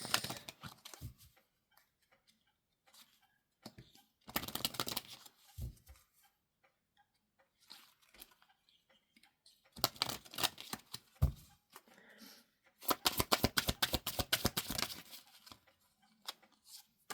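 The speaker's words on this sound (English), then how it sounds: "I'm going to pull you some Archangel Michael cards." Archangel Michael oracle cards are shuffled in quick riffling bursts of dense, papery ticking, separated by quieter gaps with faint handling taps, close and fairly soft, with no talk.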